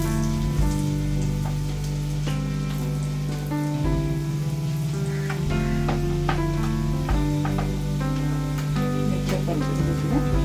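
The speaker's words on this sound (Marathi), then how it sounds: "मिरच्या परतून घेतल्या." Dried chillies fry in garlic butter for a tadka, giving a continuous close sizzle and crackle with occasional stirring scrapes and no talking.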